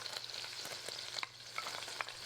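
Onions for sauerbraten fry softly in a pan, a low, quiet sizzle with a few light stirring clicks and scrapes and no voices.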